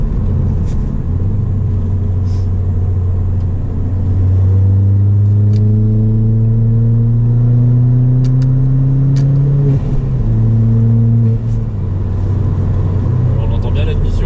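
A Ford Fiesta ST Mk7 tuned to Stage 2 accelerates hard, its intake and engine note rising steadily through the revs, dropping at a gear change and climbing again, heard from inside the car with people talking over it.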